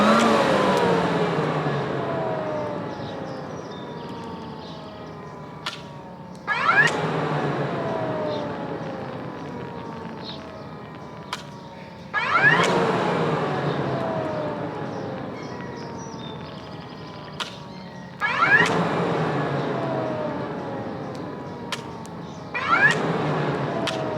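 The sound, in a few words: engine revving up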